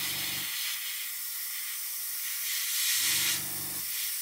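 An airbrush sprays SF69 paint onto an Airfix 1/48 Sea King model kit, a steady close hiss with a low buzzing compressor cutting in at the start and again near the end.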